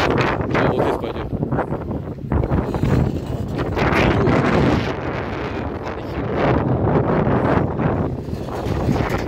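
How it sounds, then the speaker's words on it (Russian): Strong spring wind in Crimea buffets the microphone in loud, continuous rumbling gusts that swell and ease, with no voices. "Ветер, правда, сильный очень."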